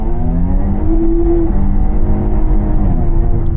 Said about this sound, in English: That was a nice long burnout.